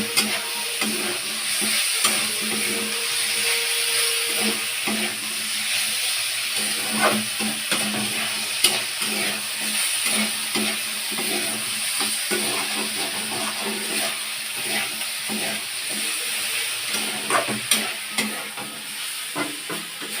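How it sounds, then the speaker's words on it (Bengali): Chicken frying in a pan with dumur (figs) and red chilli, stirred steadily: a continuous close hiss and sizzle with scattered scraping clicks from the spoon over about twenty seconds, no talking. "এবার নাড়বো।"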